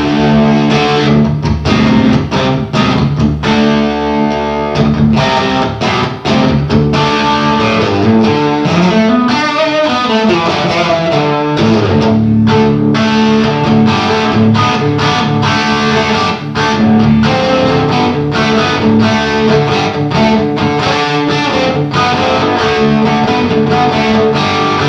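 A Gretsch G5191BK electric guitar is played with a slide in open G tuning, giving a loud, distorted, ambient sound with sustained chords and gliding slide notes that fill the whole stretch without pause.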